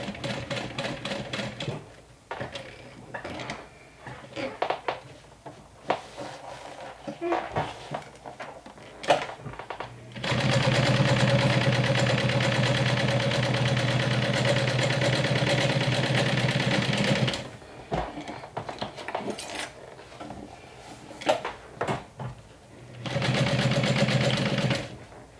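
Domestic sewing machine stitching a convertible handbag-backpack, with a long steady run of about seven seconds and a shorter later burst, separated by quieter handling clicks and fabric shuffling; close and clear.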